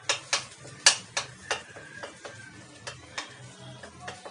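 A husband stirs fish curry in a frying pan, spoon scraping the pan in a steady series of sharp clinks over a low sizzle, close and fairly quiet with no talk.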